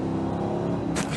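A Dodge with a Hemi V8 engine revs in a steady, loud, continuous rumble throughout. A sharper burst of higher-pitched roar briefly rises near the end.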